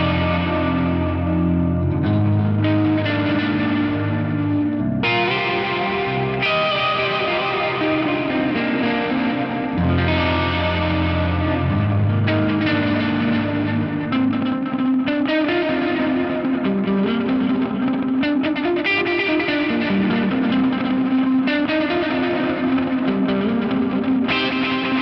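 An electric guitar plays through a Strymon Brig delay pedal, sustained chords and notes blooming into lush, echoing repeats that blend continuously over about twenty-five seconds, loud and alone with no talking.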